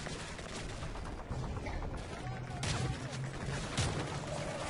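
Gunfire in the video game Call of Duty MW3: dense, continuous bursts of shots and booming blasts in a busy firefight, loud throughout, with faint game sounds in the mix.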